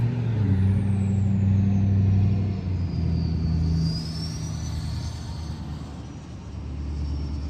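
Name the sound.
truck passing with air brakes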